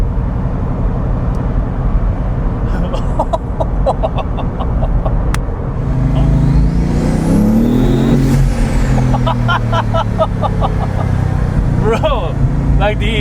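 A Bugatti Veyron Grand Sport's W16 engine and turbochargers build as the car accelerates, a loud rising whine and roar sweeping up and back down in the middle, mixed with intermittent excited talk from inside the car.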